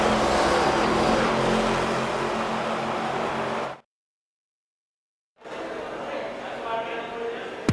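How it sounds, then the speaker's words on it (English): Race car engines in the NASCAR 25 video game roar at Kansas Speedway, a loud sustained drone that cuts to complete silence for nearly two seconds before the engine noise resumes. "Get ready to feel the thunder of NASCAR and engines roar to life"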